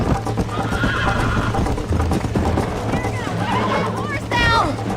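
A horse neighing with rapid hoofbeats galloping in the Red Dead Redemption video game, loud and close, with whinnies rising over continuous clip-clop and background game noise.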